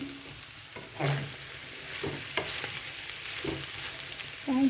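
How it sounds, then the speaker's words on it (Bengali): Broccoli frying in a pan, a soft continuous sizzle broken by intermittent stirring scrapes and clinks, fairly quiet and close, with no talking. "এটা হলো ব্রকলি ভাজি করলাম"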